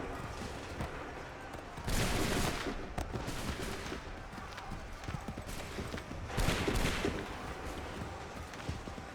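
Musket volleys crack out twice in an Assassin's Creed III battle, each a dense burst of overlapping shots over constant battlefield noise and rumble, with a shouted voice among the chaos.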